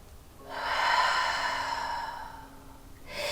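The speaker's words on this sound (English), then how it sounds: "One more deep breath." One slow, deep breath during a yoga flow, a long soft airy exhale heard close and alone in a quiet room.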